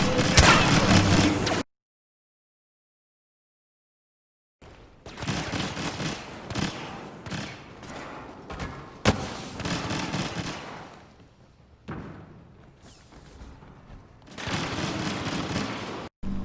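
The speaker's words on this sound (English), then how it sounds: "It's very obvious when somebody's rapid firing an EE4 like that." Rapid bursts of EE4 blaster fire in Star Wars Battlefront crackle in dense, loud volleys, broken by a stretch of silence and then returning in several sustained strings of shots.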